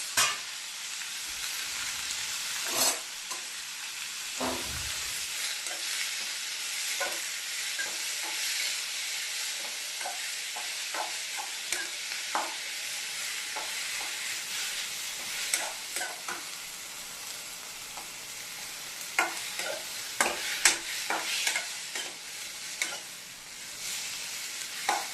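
Onion, ginger and tomato frying together in a pan, a continuous dense sizzle with frequent clinks and scrapes of stirring over about twenty-five seconds, no voices.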